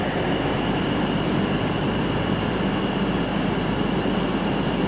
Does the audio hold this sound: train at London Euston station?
yes